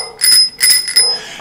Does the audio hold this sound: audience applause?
no